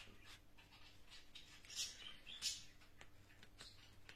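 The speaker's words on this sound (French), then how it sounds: "vous entendez les oiseaux aussi" Small birds chirping faintly in the background outdoors, scattered high tweets over a low steady hum, with a couple of slightly louder calls.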